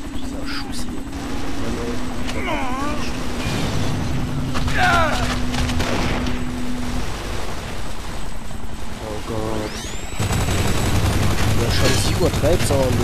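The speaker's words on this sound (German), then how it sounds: "dieser Schuss hier" Gunfire in Kane and Lynch 2 cracks in scattered bursts over a constant helicopter-like drone, with excited talking mixed in.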